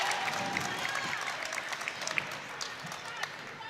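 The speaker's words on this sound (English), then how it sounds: "An erupting crowd after that one." A crowd at a girls' high school basketball game applauds and cheers steadily, a dense wash of clapping with scattered louder claps, while a commentator speaks over it.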